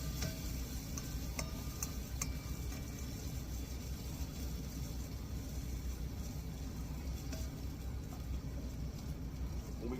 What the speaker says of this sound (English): we're gonna get these peppers sauteed up, all this stuff sauteed and cooked down